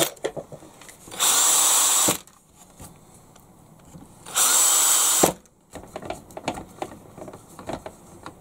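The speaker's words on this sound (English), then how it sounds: "the last two holes using the electric drill" Electric drill with a 2.5mm bit drilling holes in a Bruder low loader RC model, two loud whirring bursts of about a second each, separated by quiet handling noises.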